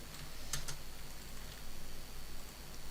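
Faint computer keyboard typing during a Brawlhalla gaming session, a quiet patter of light key clicks over steady background hiss, with one sharper click cluster early on.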